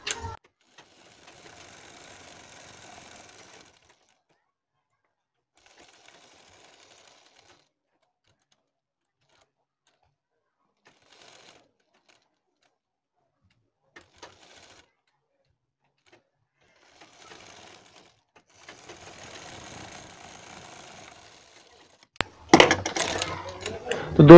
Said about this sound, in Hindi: तो चलिए हम अपनी सिलाई लगाते हैं।